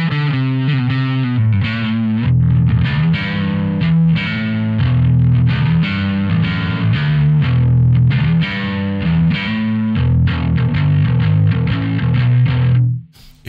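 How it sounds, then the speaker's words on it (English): A bass guitar played through full distortion on a Two notes Genome processor, a thick, gritty riff of sustained chugging notes with a brief pause midway and an abrupt stop at the end. "Now it's full distortion."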